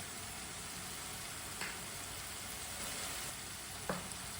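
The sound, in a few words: turnip and pea sabzi being stirred in a pan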